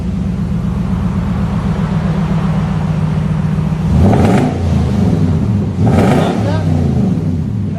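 A 2011 Nissan Titan SV Texas Edition with a 5.6L V8 and a Dynomax Race Bullet exhaust, muffler removed, idles with a steady low rumble, then revs up loudly twice in deep, throaty bursts.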